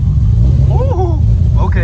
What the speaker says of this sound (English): first start with the new used transmission. First start in 2 months.